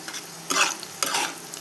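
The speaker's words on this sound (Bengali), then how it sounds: "এখন আমি কিশমিশগুলো ভেজে নিচ্ছি।" Raisins frying in a pan while cooking egg biryani: a low sizzle broken by two brief bursts of stirring and scraping, close by with no voices.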